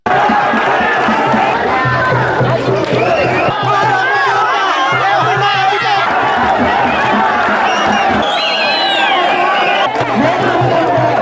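A large crowd of protesters, estate workers and residents, blocks a main road in the Boragas area of Valimada, with continuous loud crowd chatter and shouting, scattered cheering voices and a steady low hum beneath.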